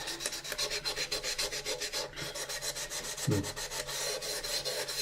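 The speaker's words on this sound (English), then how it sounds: "Try to keep your sand scratches going in the same direction, because if you cross sand, it'll come up just as a different angle." 800 grit sandpaper rubs back and forth over a plastic model kit part of the U.S.S. Enterprise, a close, quiet, rhythmic scratching of even strokes, about four per second, with no talking.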